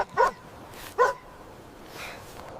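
Sled dogs in a snowy, frozen wilderness give two sharp, clear barks about a second apart, followed by a fainter yelp, with no talking.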